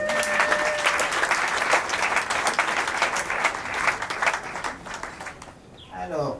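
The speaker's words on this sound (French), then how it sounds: "Veuillons applaudir pour nous-mêmes." Guests at a civil wedding clap in loud, even applause for about five seconds before it thins out, and a voice starts to speak as the clapping ends.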